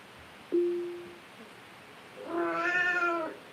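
Two cat meows from a smart speaker's cat skill: a short flat meow, a pause, then a longer, fuller meow, both clear and close with no talking.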